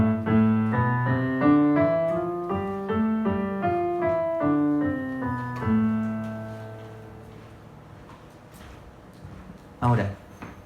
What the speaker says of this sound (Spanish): sigo tocando solamente las teclas blancas del piano